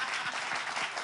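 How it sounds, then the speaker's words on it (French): Audience applauding at a live francophone broadcast event, a brief burst of steady, dense clapping filling the whole moment. "Applaudissez pour lui, pour moi."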